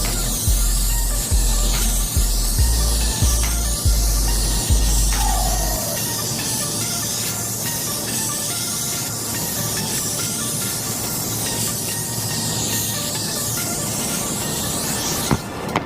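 Spray gun laying a thin, wet pearl coat on a car, a steady close hiss that runs unbroken throughout, with a low rhythmic thumping in the first few seconds and no speech.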